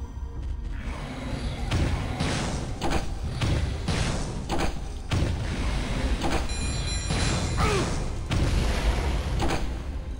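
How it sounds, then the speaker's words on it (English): A grenade launcher in the video game Turok 2 firing repeatedly, with a series of heavy booming thuds and blasts spaced irregularly over the stretch, loud and close with no clear talk. "Why don't you use the grenade launcher for a tiny bit"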